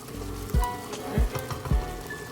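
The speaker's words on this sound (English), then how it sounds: "As you can tell, this is already like frying already." Steady crackling sizzle of blended pepper frying in a pot for Nigerian vegetable soup, with a few louder low thumps and pops scattered through it.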